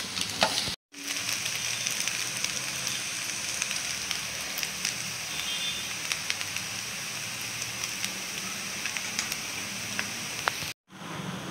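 Mixed chow mein with chicken, fried egg and pre-fried vegetables is stir-fried in a hot pan, producing a loud, continuous sizzle with scraping and tossing sounds and two brief dropouts.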